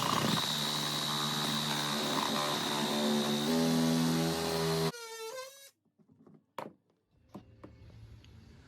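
A Sawzall reciprocating saw cuts a register hole in a floor, heard as a loud, steady, buzzing cut for about five seconds before it stops abruptly, followed by a short rising whine and a few scattered knocks.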